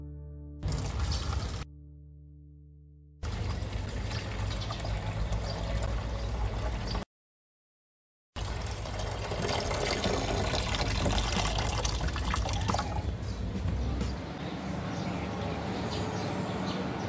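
Nitric acid diluted one to one with water being poured for gold recovery from IC chips, a steady liquid pour and trickle running through most of the stretch, broken by two short silent gaps.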